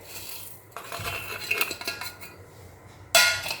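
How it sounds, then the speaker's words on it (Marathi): Coriander seeds, black peppercorns and ajwain are crushed in a mortar and pestle, giving a series of close, uneven grinding and clinking knocks for about two seconds, then a sharper louder clatter near the end. "आता आपल्याला हे थोडंसं भराडसारखं खलबत्त्या ठेचून घ्यायचं आहे"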